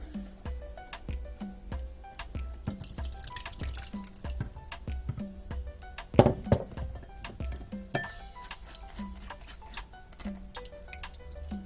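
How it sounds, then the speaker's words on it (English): A cashew mixture strained through a sieve into a bowl, with a steady run of close, distinct liquid drips and a few light clinks of a utensil against the bowl. "Sieve the mixture into a bowl and remove any lumps from the cashews."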